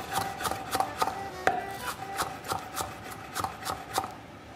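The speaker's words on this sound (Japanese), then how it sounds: "ポン酢、そしてネギを刻んでいきますね。" A knife rapidly chops green onions on a cutting board in steady, crisp strokes, about two per second, close and clear with no talking.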